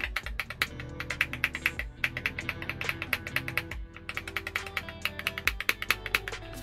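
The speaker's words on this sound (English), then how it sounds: "I've got to say, I like how this keyboard is sounding." Typing on a Weikav Sugar65 mechanical keyboard fitted with Haimu Pastel Thistle tactile switches: rapid, close, crisp clacks in continuous bursts with brief pauses, heard alone without speech.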